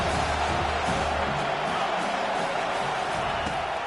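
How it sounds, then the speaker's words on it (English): Crowd noise in an NCAA football video game, a dense steady roar from the stands on a third-down defensive play, loud and continuous without a break. "Decibels rising as the crowd gets behind this defense on 3rd down"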